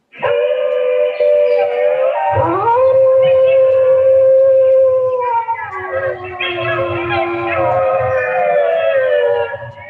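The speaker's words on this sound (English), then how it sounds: "I kind of enjoy a little howling." A long, loud, sustained howl with wavering pitch, rising and sliding like a siren, continuing for several seconds without a break.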